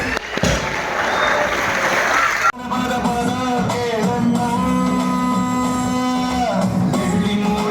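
A school annual function crowd claps briefly and loudly for about two seconds before an abrupt cut to tonal voices and sustained pitched sound.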